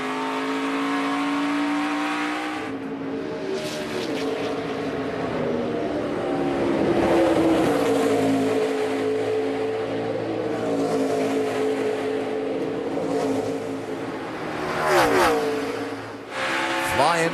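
Stock cars in a 2013 NASCAR road-course race roar loudly through braking, downshifts and acceleration into a corner, engines rising and falling continuously with a surge near the end, under steady commentary.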